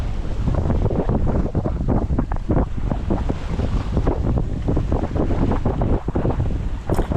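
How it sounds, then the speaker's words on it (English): Water rushes and splashes against a moving sailboat on an overnight passage, with gusting wind buffeting the microphone; no voices, just steady sea noise throughout. "Yes, just the sound of the water."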